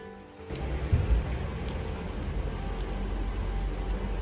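Rain falls outside on a day of mixed sun and showers, a soft steady patter that starts after a brief quiet moment and continues evenly, fairly faint and with no talking.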